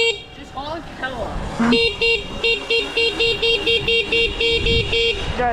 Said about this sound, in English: Just honk hella.